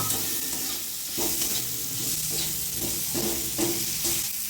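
Kashmiri chili and fried vegetables go into a hot pan and sizzle steadily, with repeated stirring scrapes punctuating the continuous frying hiss.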